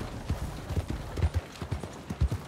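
Horse hooves in the video game Red Dead Redemption 2 beat out a quick, rhythmic clip-clop of dull thuds in a galloping pattern, close and clear with no talking over them.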